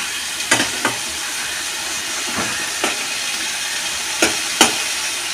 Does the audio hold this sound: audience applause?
no